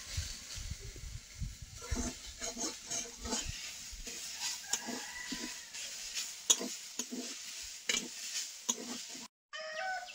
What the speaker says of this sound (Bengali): সজনের ফুল ভাজা হয়ে গেছে